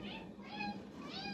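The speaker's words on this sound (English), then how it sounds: "Oh, it's a cat." A cat left on a sun porch meows several times in a row, each call drawn-out and fairly close, with a steady low background hum.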